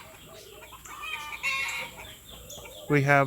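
A Red Turken rooster crows loudly and close by in a farm breeding pen, a short harsh call at the end after scattered clucking and a brief spoken phrase.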